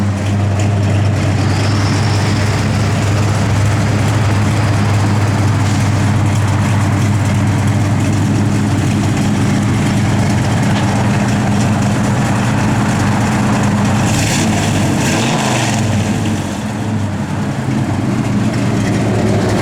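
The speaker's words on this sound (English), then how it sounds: "Give it a little rev, Jody" A 1972 Chevrolet Nova SS engine idles steadily with a deep low rumble, loud and close, swelling briefly as it is revved before settling back to idle.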